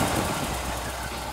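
Engine idling smoothly just after start-up, with no smoke, heard up close as a steady, loud, even rumble for a brief moment with no talking.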